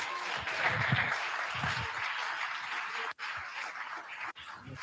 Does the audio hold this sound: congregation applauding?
yes